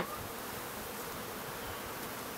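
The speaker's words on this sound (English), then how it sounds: "some of the bees are just sort of like kind of hovering in front of the hive" Honey bees hover and buzz in front of their hive, a continuous dense hum of many wings filling the air at a soft, even level with no voices.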